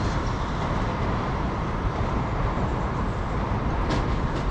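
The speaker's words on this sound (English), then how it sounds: "Oh, Shinkansen." A Shinkansen bullet train rushes past in Tokyo's Azabu area, producing a loud, continuous broadband roar that holds steady throughout without pause.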